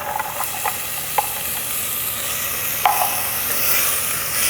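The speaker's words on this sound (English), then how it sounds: "The onions will start to saute, so everything will start to come out and you get a really, really nice fragrance" Onions and carrots sauteing in a pan over medium heat, a continuous gentle sizzle with a few light clicks of a utensil stirring through.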